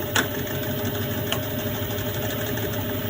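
A metal lathe runs steadily while cutting a bung for an Escort Cosworth dump valve delete, a continuous mechanical hum with a couple of brief sharp ticks near the start.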